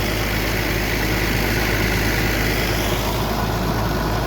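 An engine runs at a steady idle beside a shrimp pond after the net has been pulled in, a loud continuous low rumble with no change in pitch throughout.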